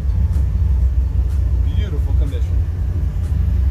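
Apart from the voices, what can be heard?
1955 Chevy Bel Air stick shift car on test drive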